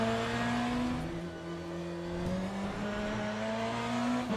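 Race car engine in the sim racing game Le Mans Ultimate, its steady tonal drone holding near constant with slight pitch shifts as the car drives, heard alone without voices.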